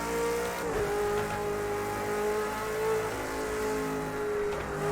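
A V8 Supercar racing around Bathurst in Project Cars 2 roars steadily at high revs, with a brief dip and gear change near the start, loud and close with no talking.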